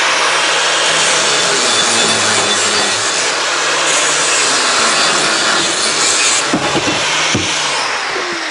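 A steel box section being hand-sawn to length for a narrowboat bulkhead door frame, a steady gritty back-and-forth rasp close by and loud throughout, with a few sharp knocks near the end.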